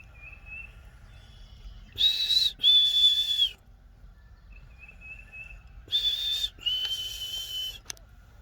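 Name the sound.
whistling imitating black-capped chickadee call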